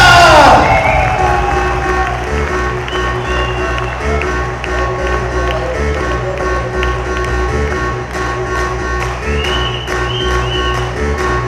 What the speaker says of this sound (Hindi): शाम कुमार सरपंच जी के लिए जोरदार तालियां